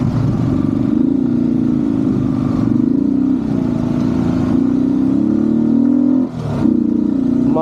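Motorcycle ridden off-road on a rain-soaked trail to Gavi Betta, its mid-pitched engine droning steadily near and loud with small rises and dips, then a brief revving surge near the end, no talking.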